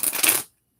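A deck of tarot cards is shuffled by hand in a quick riffling burst lasting under half a second, close and crisp, then cut off into silence.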